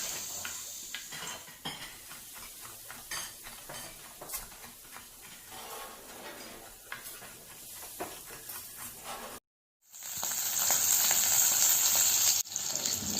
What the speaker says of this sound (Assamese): কেৰাহীখন মই অলপমান গৰম হওঁতেই চৰ্বিখিনি দি দিছোঁ